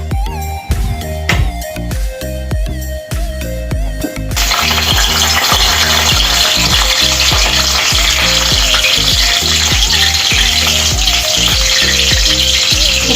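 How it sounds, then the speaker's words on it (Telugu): Green chilies frying in hot oil in a pan, a loud continuous sizzle that swells sharply partway through, over repeated metallic clinks and taps of a utensil against the pan. "మిరపకాయల నుంచి ఫ్రై అయ్యే వరకు వేయించుకోవాలి."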